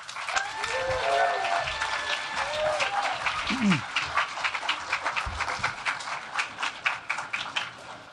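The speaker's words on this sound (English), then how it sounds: "give a big round of applause to Ben Navarro" An audience at a scholarship event applauds as Ben Navarro is introduced, steady mid-level clapping that grows choppier and more uneven toward the end, with faint voices mixed in early.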